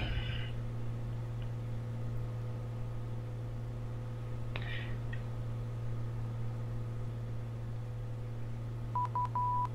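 A steady electronic hum and drone fill the background, with a few brief faint tone bursts and a short high beep near the end: a VOR navigation beacon's Morse ident heard over aircraft radio.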